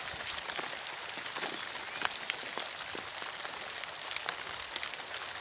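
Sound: rain falling outdoors

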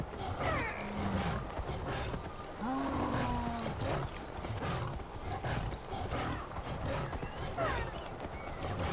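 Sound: sabertooth tiger roaring in video game Far Cry Primal

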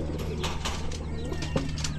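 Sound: pet pigeon cooing

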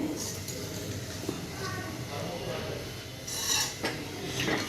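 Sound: stirring coconut while dry-roasting it in a pan

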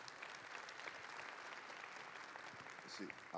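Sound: applause for presenters

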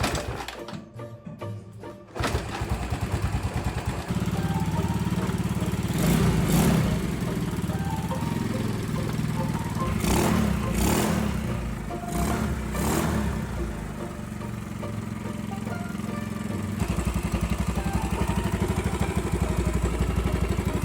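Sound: noisy motorcycle engine running

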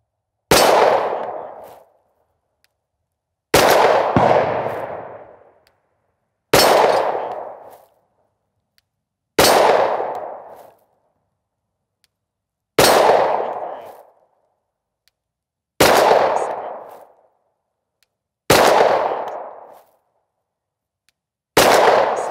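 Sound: 9mm pistol firing 115 grain Winchester rounds with a compensator

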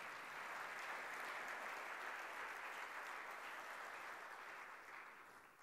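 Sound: audience applause

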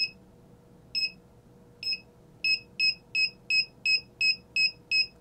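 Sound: ESP32 car reverse range warning buzzer beeping

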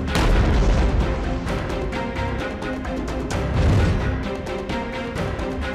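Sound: Steyr SPP pistol being fired

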